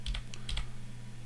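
A few quick keyboard keystrokes on a Radxa X2L computer running Lubuntu, about six close clicks in two short bursts over a steady low electrical hum.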